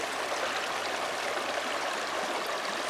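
Small creek flowing outdoors, a steady close hiss and rush of running water with no talk, even and continuous throughout.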